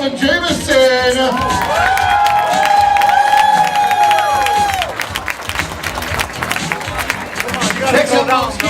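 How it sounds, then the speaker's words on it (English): Wedding guests clap and cheer loudly as the ushers are announced at a wedding reception, with a sustained burst of applause, whoops and crowd noise, along with voices and music. "huge round of applause for Caleb and Jameson"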